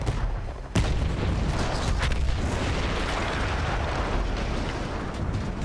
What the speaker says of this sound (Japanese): それじゃ追加のダイナマイトをポイッと。 さて、今度こそ破壊してやるぜ。 これまた盛大に吹っ飛んだ。